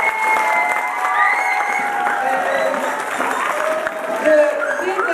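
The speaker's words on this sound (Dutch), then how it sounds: "Ik vind ze nog even met z'n allen een keihard applaus hebben verdiend." Children and adults at a school monthly celebration for a primary group clap together in sustained applause, a continuous mid-level patter with some voices mixed in throughout.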